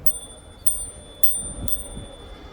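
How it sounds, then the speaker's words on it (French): The small bell on a DYU C2 mini folding bike is struck four times at an uneven pace. Each ding is bright and close, with a steady high ringing tone sustained between strikes and no talk. "Petite sonnette."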